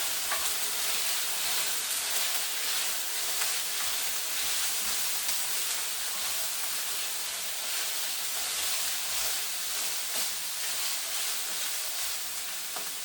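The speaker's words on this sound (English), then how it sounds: "So I'm going to stir it." Beef and tomato sizzle and fry steadily in a pan while being stirred for a soup, a constant close hiss with faint scraping throughout and no talk.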